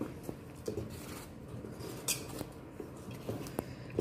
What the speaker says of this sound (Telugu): ఒక పెద్ద స్పూన్ జీరా యాడ్ చేసుకొని ఇప్పుడు బాగా మిక్స్ చేసుకుందాం